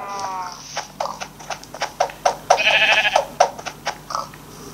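Sheep in the Minecraft video game, a run of short, pulsing bleats from several animals close by, coming in quick irregular bursts, with one longer wavering bleat near the middle.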